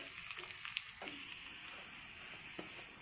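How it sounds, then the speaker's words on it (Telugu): Chopped onions, coarsely crushed garlic and cumin seeds frying in hot oil for a spinach and toor dal tempering give off a steady, soft sizzle with a few faint crackles and pops, heard alone without any talking. "ఎల్లిగడ్డ జీలకర్ర మంచిగా గోలాలి"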